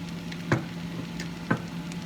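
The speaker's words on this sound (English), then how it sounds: "we're just going to stir fry this up" Vegetarian shrimp fried rice being stir fried in a pan, a soft steady sizzle with two distinct scraping stir strokes, close and moderately quiet, no voices.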